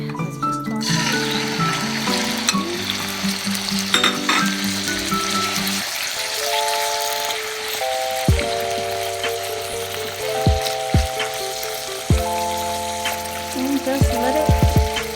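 Chicken leg quarters seasoned with garlic and salt crackle and sizzle in hot oil in a pan, a loud steady fry under a strong humming tonal background, with a brief spoken phrase.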